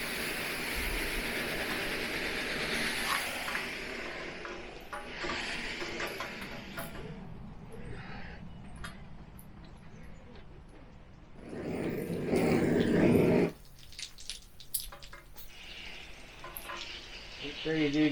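Steady broadband spray of a water hose rinsing soap off an RV awning, a continuous close hiss with a louder, fuller gush for a second or two near the end.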